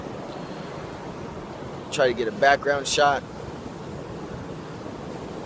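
Ocean surf washes onto the beach at St. Augustine in a constant, wind-blown roar, with someone talking briefly over the waves partway through.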